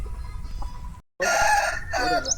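A GP line gamecock crows loudly and close, a long strained call after a brief gap, with a farm backdrop around it.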